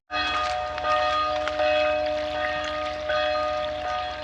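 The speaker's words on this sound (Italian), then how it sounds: "Al ritmo di campana." A church bell ringing with a sustained metallic hum and repeated strikes every half second or so, loud and close, over a steady rushing background.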